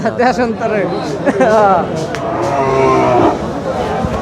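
Beef cattle moo loudly at a cattle market in Dinajpur, Bangladesh, amid a busy crowd, with people chattering, haggling and calling all around in a noisy open setting.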